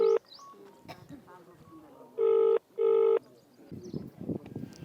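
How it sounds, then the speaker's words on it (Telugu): A phone call is placed: short electronic tones at the start, then two loud, evenly spaced ringback tones in the middle, followed by people talking. "ఫోన్ అయితే చేస్తూ ఉన్నాం."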